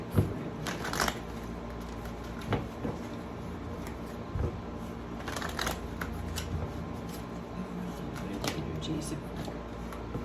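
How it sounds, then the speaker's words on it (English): Oracle cards being shuffled at a tarot reading, soft papery riffles and taps recurring in quick clusters, close and fairly quiet. "pull a couple oracle cards here"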